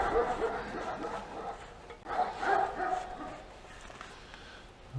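Dogs bark at bald eagles roosting in nearby trees: a few muffled, fairly distant barks and yips with soft murmuring underneath.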